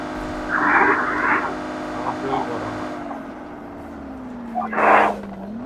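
Vehicle engine hum in the PUBG Mobile game, a steady drone with a slowly falling pitch, heard alongside brief bursts of speech-like game sound and radio-style chatter.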